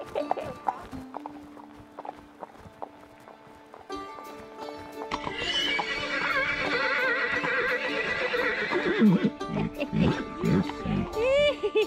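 Fell pony stallion in England giving a loud, drawn-out whinny close by, with hooves clip-clopping and some talk around it.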